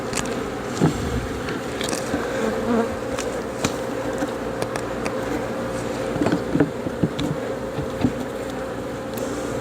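Honeybees buzzing around an open horizontal hive during an inspection and varroa mite test, a dense continuous drone of many bees close by, with scattered sharp clicks and knocks of handling.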